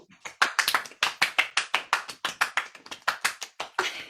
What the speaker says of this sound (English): That was just like a few little claps.